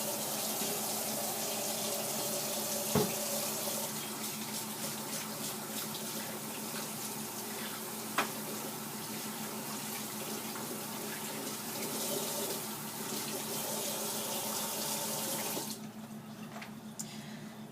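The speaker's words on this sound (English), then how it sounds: "let me rinse my hands off" Hands being rinsed under a running kitchen tap, a continuous close stream of water splashing into the sink with a couple of brief knocks, then the flow thins and quiets near the end.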